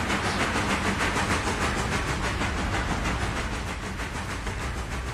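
Steady rumbling rattle of a video game train in Railroader rolling over rails with a constant hiss, continuous and fairly loud throughout, no talking.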